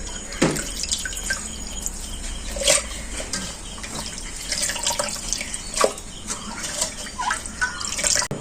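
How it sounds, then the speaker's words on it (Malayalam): Tapioca pieces being washed in water, with scattered splashes and drips over a steady wet, running-water background; the splashes land near and fairly clear with no talk. "ഇത് നമ്മൾ കഴുകി കഴിഞ്ഞു കേട്ടോ ഒരു അഞ്ചാറ് പ്രാവശ്യം കഴുകിയെടുക്കാം"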